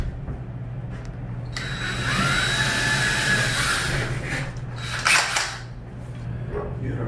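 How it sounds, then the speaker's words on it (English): A power drill bores a second hole in a wall for a mount anchor. It makes one close, sustained whirring burst of a few seconds, then a short scrape and clatter. "We're going to drill our second hole."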